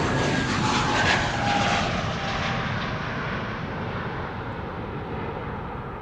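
An airplane departs Amsterdam Schiphol Airport, its broad jet roar loud at first and then fading steadily as it climbs away, with no voices.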